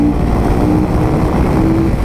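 A KTM Super Duke motorcycle engine roars loud and close as the bike pulls a wheelie. The growl holds steady and dense, with wind rush over it.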